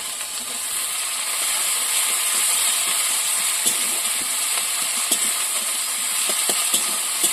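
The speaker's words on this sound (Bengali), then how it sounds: "একটু নেড়ে চেড়ে টমেটোগুলো দিয়ে দেবো।" Garlic paste and tomatoes frying in a pan over browned onions, stirred with a spoon: a steady broad sizzle runs throughout, broken by faint scraping and clicking strokes, close and with no voices.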